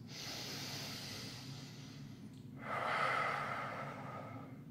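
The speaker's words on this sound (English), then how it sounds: "3 big breaths" Deep, deliberate breaths during a wrist mobility exercise, a soft steady inhale followed by a louder hissing exhale, close and quiet with no talk.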